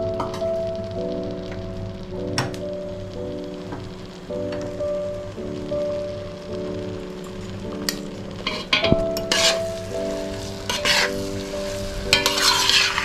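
Mohanthal mixture roasting in pure desi ghee, stirred over low heat, gives a steady soft sizzle with repeated scraping strokes of a spoon. A faint tonal hum runs underneath, and the stirring grows busier and louder toward the end.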